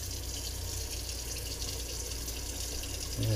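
Water gushes out of a bag of fish being readied for freezing in a steady continuous stream, loud and close, with a slight change in the flow right at the end.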